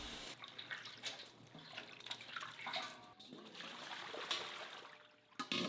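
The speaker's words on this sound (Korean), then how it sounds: "흐르는 물에서 빠르게 헹궈내야 풋내가 줄고 깔끔해요." Salted young radish (yeolmu) is rinsed under running tap water, a steady close stream with irregular splashing, dripping and sloshing as the greens are handled in the flow.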